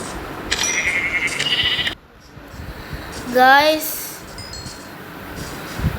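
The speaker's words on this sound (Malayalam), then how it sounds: "2 ആടുകൾ തമ്മിൽ പരിപാടിയിലായിരുന്നു" A Minecraft goat gives one loud, wavering bleat midway through, set against a low background hum and a few faint clinks.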